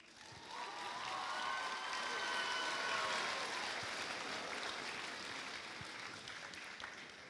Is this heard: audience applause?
yes